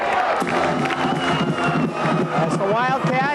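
A high school football crowd at a Thanksgiving game stands and roars, steady cheering and shouting that fills the whole stretch, with voices talking over it.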